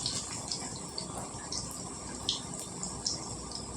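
Pieces of ivy gourd dropped into hot oil, frying with a steady, dense hiss and scattered pops and crackles throughout, fairly loud and close with no talking.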